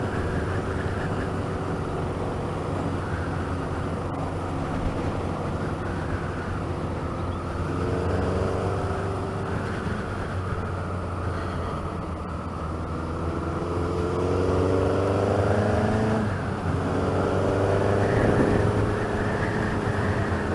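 A Suzuki GS1000 motorcycle engine idles and runs with a steady, even low drone on a test run, revving up slightly in gentle swells near the microphone, with no talking.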